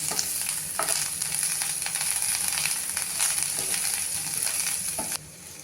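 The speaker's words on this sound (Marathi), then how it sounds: "आता त्याच्यामध्ये मी मीठ घालते आहे आणि आपण ही कोथिंबीरही घालूया अगदी एक मिनिट भरत परतणार आहे" Green chillies with salt and coriander sauté in a pan for a Maharashtrian kharda chutney, giving a steady close sizzle with occasional stirring scrapes, then a sudden drop near the end, with no talk.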